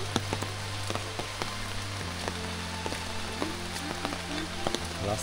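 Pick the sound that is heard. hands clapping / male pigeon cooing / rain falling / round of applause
rain falling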